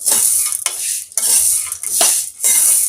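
Dry stirring and scraping in a pan, repeated strokes with a gritty rattle of peanuts roasting with cardamom and a faint sizzle, no voices.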